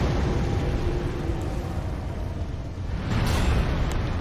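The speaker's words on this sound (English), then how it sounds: "now you're gonna breathe fire at me" A dragon breathing fire in the video game Elden Ring, a loud, dense roaring rush that swells again toward the end.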